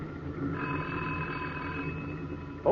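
A telephone bell rings in an old Gasoline Alley radio drama, one steady tonal ring held for about two seconds over a quiet background, followed by a sudden louder noise at the end.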